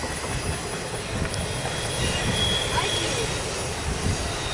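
CSX Q031, a Tropicana and intermodal freight train, rumbles past close by in a continuous, steady roar of wheels and cars with faint squealing mixed in.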